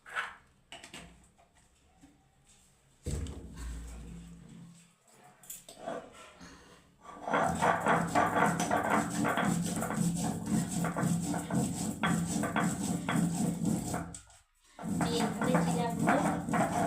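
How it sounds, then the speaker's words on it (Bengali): Cumin, tomato and onion ground on a wet stone slab with a grinding stone, a rhythmic rasping scrape that starts faint, then runs steadily with one brief pause. "এইভাবে জিরা, টমাটো, পেঁয়াজ বেটে নিচ্ছি"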